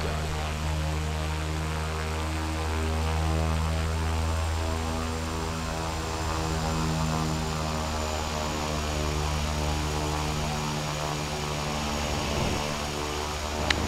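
A propeller aircraft's second engine spooling up in Flight Simulator X on the Lukla add-on, a steady close droning hum with strong low harmonics and a whining hiss that holds throughout without talk.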